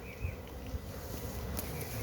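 Africanized honey bees hum around a hive box during a wild colony capture in Guyana, a continuous faint buzzing drone with occasional nearer passes and no voices.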